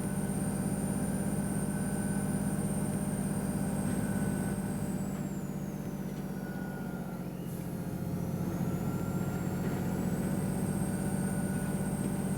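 Volvo Olympian double-decker bus engine in the OMSI 2 simulator, on Lincolnshire Route 102 with the Northern Co livery: a steady, loud diesel drone with a whining transmission tone that dips and rises again, heard alone.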